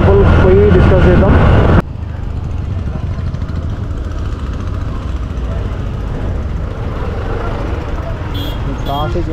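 Road traffic on the route to Srisailam during Mahashivratri, heard from a Duke motorcycle: a steady broadband rumble of engines and tyres, loud and continuous, with a voice talking over it in the first couple of seconds.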